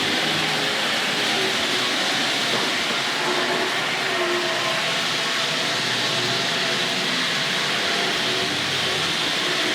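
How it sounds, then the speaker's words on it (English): A Tri-ang R.157 model diesel railcar running on its track alongside a Hornby Dublo tank locomotive layout, producing a steady, loud whirring rumble with faint rail clicks, continuous throughout and without talk. "And here comes the diesel rail car."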